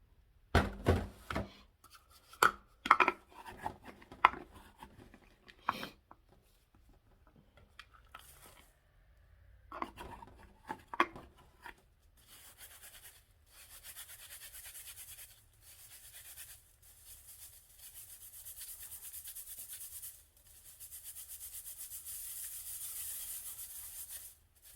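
Baking soda pushed and sifted through a fine mesh strainer, a steady soft scratchy rasping in repeated strokes, close and fairly quiet, after some earlier clinks and handling knocks.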